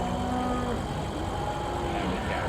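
Cattle mooing in the Farming Simulator game on a farm estate, a few long low moos carried over a steady dense background of farm ambience, continuous and moderately loud throughout.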